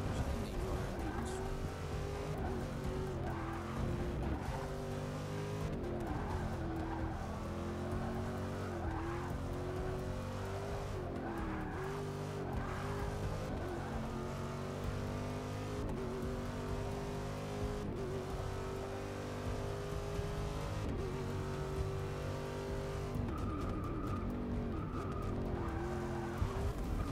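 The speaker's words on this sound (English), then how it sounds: "I like the way the engine sounds." A 2015 Corvette Daytona Prototype race car engine in Forza Motorsport 6 roars continuously, its pitch rising and falling through gear changes, with occasional tire squeal.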